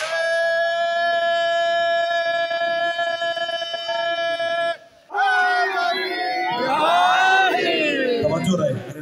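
At a religious gathering honouring Imam Husain, a voice leads a long sustained slogan, then after a brief pause a loud crowd answers with overlapping shouted chants.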